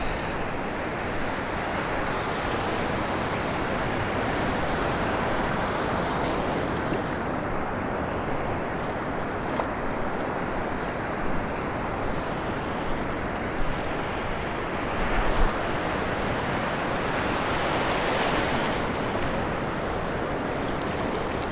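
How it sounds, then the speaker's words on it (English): Ocean surf breaks along a beach as a steady, close roar of churning water, with wind buffeting the microphone now and then and no voices. "That wave's going to disappear out there."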